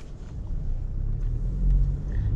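A 2019 Toyota Tacoma SR5 pickup with a 2.4 liter engine driving, a deep steady engine rumble that swells slightly as it pulls, heard from inside the cab with no talking.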